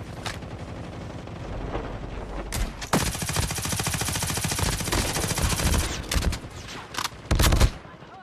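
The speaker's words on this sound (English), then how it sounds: "Everybody shooting after that guy" Call of Duty gunfire erupts in dense bursts of rapid automatic shots, with a long sustained volley in the middle followed by shorter sharp bursts and a heavier blast near the end, loud and close.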